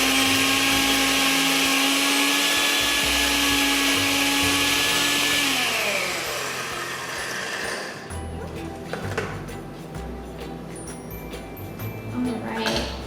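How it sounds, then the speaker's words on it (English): A blender crushes Oreo cookies, its motor whining loud and steady for about six seconds, then dropping in pitch and rattling as the blade churns the crumbs, with a voice speaking briefly near the end. "So I'm gonna put it in my blender"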